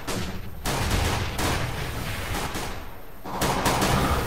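Decoy grenades in CS:GO mimic gunfire, producing bursts of dense rapid shots that rise and drop in waves, loud and close, with no voices over them.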